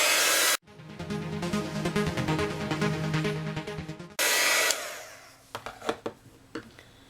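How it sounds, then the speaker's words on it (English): Crafting heat tool blowing over wet ink on washi tape, a loud steady whirring hiss that cuts in abruptly, switches off, then starts again briefly before settling into quieter handling noises. "what I like to do is dry it a bit with my heat tool because it is a more wet ink"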